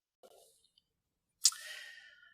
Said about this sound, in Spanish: Déjame pasar la página de mis notas.